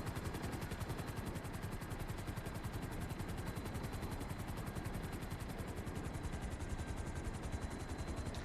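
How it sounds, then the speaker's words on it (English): A steady, rapid rotor chop of a helicopter in GTA thrums continuously, faint and even throughout with no voices. "Chopper right there too."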